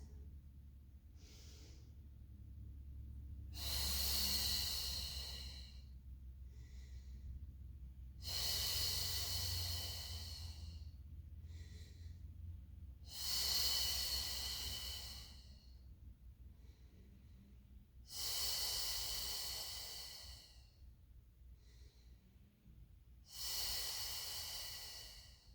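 Slow, steady breaths during a Pilates mat exercise, five long audible exhales spaced about five seconds apart with quieter inhales between, close and hissing over a low room hum.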